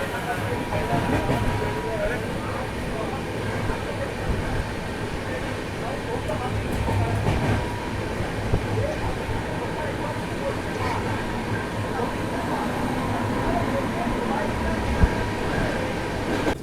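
Samarsata Express (train 12152) running at speed at night near Champa, a steady dense rumble of wheels and carriage noise with no distinct clicks, heard from inside a coach throughout.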